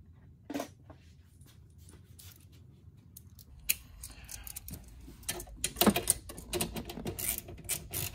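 Socket wrench tightening nuts on a Yamaha G29 golf cart solenoid, with a few scattered ratcheting clicks and metallic handling sounds close by that grow busier toward the end.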